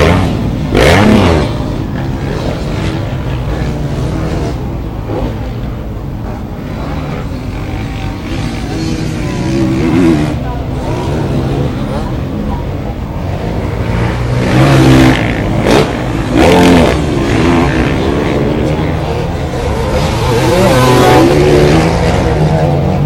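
KTM two-stroke and Kawasaki four-stroke motocross bikes race at a track, engines rising and falling through loud revving passes with repeated surges as they accelerate, a commentator's voice faint beneath.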